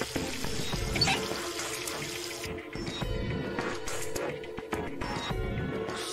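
Video game sound: steady running water pours and splashes continuously, like a tap filling a sink, with small clinks and knocks scattered through it.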